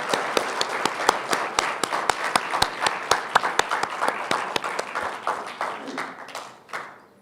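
An audience applauds with clapping that starts dense and sustained, then thins and fades toward the end, with a bit of talk mixed in.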